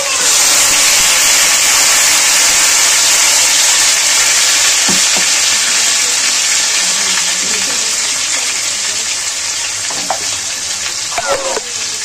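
A paste of tomato and green chilli fries loudly in a pan with a dense, constant hiss. Occasional soft knocks of stirring come through, and the sizzle thins slightly toward the end.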